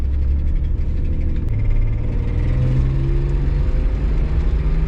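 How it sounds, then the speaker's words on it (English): A Nissan Skyline R31 sedan with an exhaust leak drives along, its low engine drone and rising rumble steady and close, with a faint whirring over the running exhaust. "You can hear that exhaust leak."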